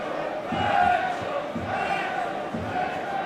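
Football crowd at Wrexham's stadium during a match against Lincoln City, a small section chanting in steady rhythmic bursts over a broad, continuous roar of distant supporters.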